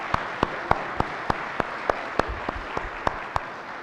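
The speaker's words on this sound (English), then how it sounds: "Laura, let's give a big round of applause for Laura." An audience at a RESNET 2013 general session claps in a sparse, even rhythm, with single sharp claps landing roughly every third of a second over a soft crowd murmur.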